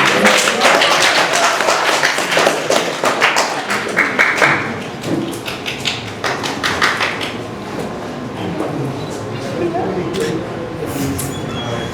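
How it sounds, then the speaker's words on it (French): Wedding guests applaud, a burst of dense clapping that is loud at first, then thins out into scattered claps and fades, with voices talking beneath. "Applaudissez, s'il vous plaît"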